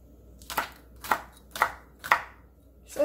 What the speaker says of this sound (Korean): 이렇게 해서 다 썰어 줄 겁니다